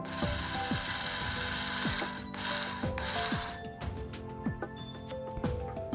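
A JOUSTMAX cordless screwdriver runs after a repair to its switch. The motor gives a close, rapid ratcheting whir with repeated clicks in a steady rhythm, and the pitch changes partway through.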